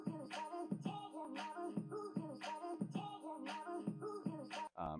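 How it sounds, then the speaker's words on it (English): A looped sound clip pitched up five half steps in Adobe Audition for a chipmunk effect, the same high, squeaky phrase repeating about four times in a steady rhythm before a short cut-off at the end. "if you wanted to kind of give it that higher chipmunk effect"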